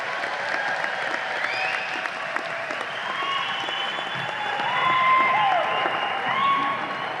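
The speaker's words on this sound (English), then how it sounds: "Let's give them one more round of applause." Sustained applause from a crowd fills the room, steady clapping with some whistles and cheers rising briefly near the middle.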